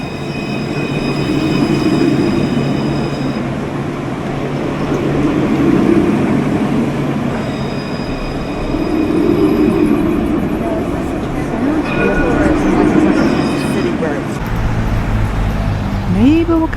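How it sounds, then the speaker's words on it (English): A modern Luas streetcar passes on a Dublin street, a loud, steady rolling rumble with faint high tones, set in city traffic noise and rising and falling slightly as it goes by. "just in time to see the modern streetcar in Dublin that's called a Luas"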